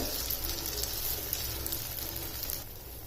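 Breakfast batter sizzles in a large pan as it is spread out thick, a steady hissing crackle that eases slightly toward the end.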